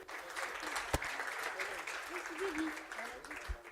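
Applause from an award ceremony audience for company representatives at a Tunisian HR awards event, a steady moderate clapping wash with a sharp louder clap near the start and faint crowd voices underneath.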